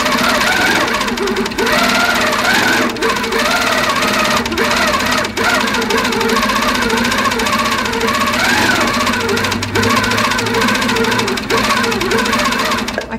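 A long-arm quilting machine fitted with a TruStitch stitch regulator runs steadily at speed, a loud, continuous mechanical hum with rhythmic needle pulses and a few brief dips.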